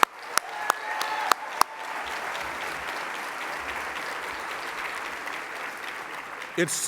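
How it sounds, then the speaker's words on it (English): A few sharp, separate claps ring out before a conference crowd breaks into broad, sustained applause for the staff, a soft even wash of many hands continuing to the end. "this staff, I should give them a big round of applause"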